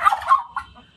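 A farm hen calls close by in a short burst of two or three quick, throaty clucks, loud and alone.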